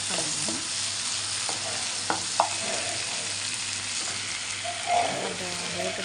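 Asafoetida is stirred into hot oil in a pan, giving a steady sizzle with scraping spoon strokes and a few sharp clinks close by.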